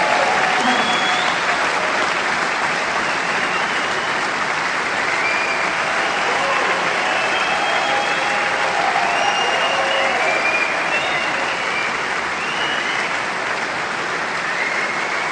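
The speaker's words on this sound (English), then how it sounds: "Give them a round of applause as they come on stage." A large concert-hall audience at Symphony Hall applauds as performers walk on stage at a memorial concert, a sustained, full wash of clapping that holds steady from start to finish.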